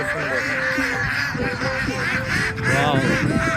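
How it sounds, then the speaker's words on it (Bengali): Farm ducks in a Bangladeshi village quack and honk in a steady, overlapping chorus, loud and close throughout with a few rising calls near the end. "হাঁসগুলো একবারে রাখারাখি শুরু করে দিচ্ছে।"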